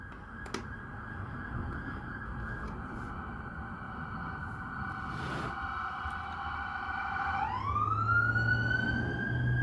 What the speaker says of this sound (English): That's a new siren.